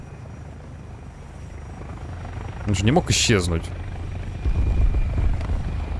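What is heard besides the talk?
helicopter flying nearby in video game War Thunder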